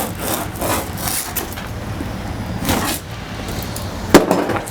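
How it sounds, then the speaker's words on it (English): Insulation lining the wall of a Mercedes Sprinter van is cut back with a close, steady rasping scrape that runs for several seconds, ending in a sharper burst of rough cutting noise. "Right now I'm cutting the insulation back about 1 inch"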